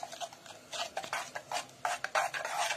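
White chocolate being stirred in a saucepan as it melts, with a close, steady scraping swirl of repeated strokes and a faint metallic edge, no voices.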